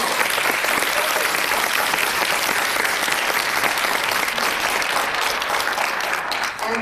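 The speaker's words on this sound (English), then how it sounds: "Please give a big round of applause to our entire panel." Big round of applause for a panel at a Congressional Black Caucus conference session, a loud, continuous roar of many hands clapping across the room that holds steady and thins slightly near the end.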